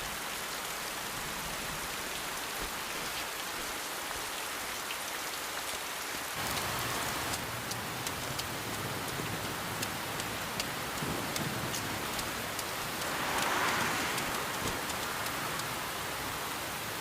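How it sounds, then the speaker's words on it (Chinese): Sudden rain falls as a dense, even hiss of drops on surfaces. It swells heavier partway through and holds steady and fairly loud throughout, with no voices. "怎么突然下雨了呢？"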